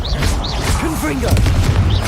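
A Confringo fire spell blast in the Hogwarts Legacy video game booms amid busy combat effects, with a steady loud low rumble and a voice speaking throughout.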